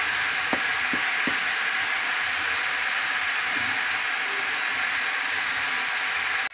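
Cabbage with coconut and spices fries in a pan, giving a steady, even sizzle and hiss throughout, with a few faint knocks from a spoon or pan early on and no talking.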